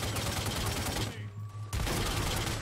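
Gunfire in the video game The Godfather II: dense bursts of rapid shots, loud and close, breaking off for about half a second before resuming just as heavily.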